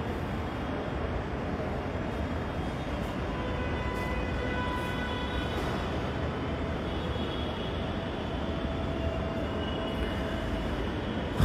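A Dhaka metro rail train on the Uttara to Motijheel line runs steadily with a continuous rumble and wheel noise, faint high squeals over it, and no voices.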